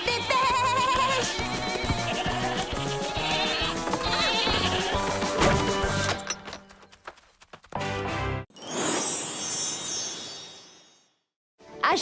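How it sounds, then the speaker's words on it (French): Goats bleat over loud background music in a festive outdoor setting, then a few sharper bleats and clattering sounds follow after a brief break. "Hé, petite chèvre, venez."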